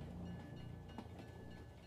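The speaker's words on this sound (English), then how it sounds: "you can hear the relaxing sounds of the wheels turning along the tracks" A faint, steady train rumble with a soft rhythmic clatter of wheels rolling over the rails, continuous throughout.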